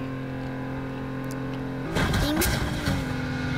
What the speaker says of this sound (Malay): Oh, dia bunyi kereta ni.